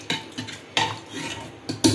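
Metal spoon scraping and clanking inside a pressure cooker as chana is stirred, several distinct strokes close by with no talking.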